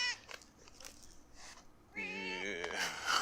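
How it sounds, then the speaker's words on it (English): A pet cat named Adi gives a drawn-out, wavering meow close by after some faint rustling, the cry rising and bending in pitch over its last second. "So there's the cat."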